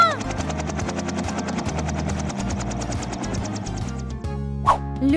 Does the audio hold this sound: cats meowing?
no